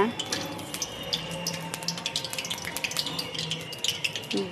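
Whole garam masala and bay leaves frying in oil, a faint steady crackling sizzle with small pops scattered throughout, close and quiet.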